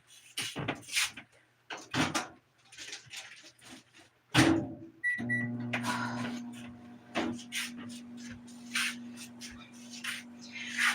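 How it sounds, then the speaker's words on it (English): Home kitchen microwave oven started during a live cooking stream: clattering and a door closing, quick beeps, then a steady low electric hum running underneath continued handling noises. "let's just microwave this puppy for a second"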